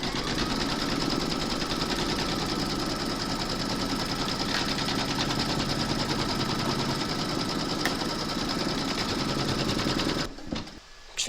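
An embroidery machine stitches a round on a mermaid and dolphin appliqué with metallic thread, giving a loud, fast, steady mechanical whirring and needle chatter that runs continuously up close, then stops abruptly near the end.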